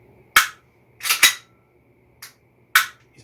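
An HFC HG-185 gas blowback airsoft pistol fires four sharp, snappy shots in an uneven rhythm, two of them close together, each a crisp click-pop with a short metallic tail. The shots ring out clearly against a quiet background.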